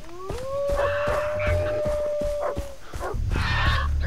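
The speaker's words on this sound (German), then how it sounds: "da hinten sind aber Hunde" Dogs in Far Cry 3 give a long, rising howl that holds steady, with barks and growls mixed in nearby and ambient game noise beneath.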